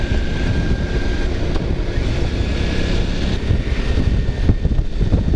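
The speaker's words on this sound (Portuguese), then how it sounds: "Bom esse vento aí pra não atrapalhar tanto." Strong wind buffeting the microphone while riding a Suzuki V-Strom DL 650 motorcycle near Alfredo Chaves, a loud, constant low rumble and roar with steady rushing noise and no voices.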